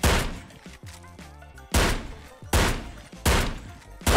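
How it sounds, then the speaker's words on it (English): Four loud, booming blasts from the M59OA1 pump-action shotgun in the VR shooter Ghost of Tabor, fired at a steady pace about a second apart, with pump racking and mechanical clatter between shots. "this is the new shotgun, the M59OA1, and it feels pretty good"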